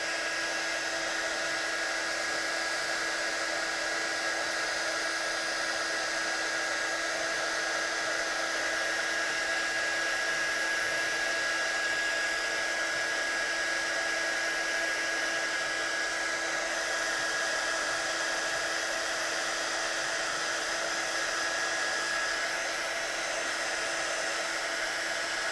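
Hair dryer blowing continuously for a long stretch to dry a watercolour stamp, a loud, steady whine with an unchanging tone.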